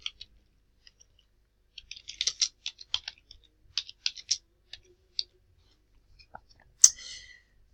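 Soft, scattered keyboard typing with irregular clicks and short bursts of keystrokes, recorded close and quiet.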